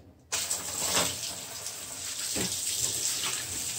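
Water from a braided dishwasher supply hose flushes into a kitchen sink, a steady broadband gush that starts abruptly and keeps running loud and close, with a brief clatter as the stream strikes a spoon.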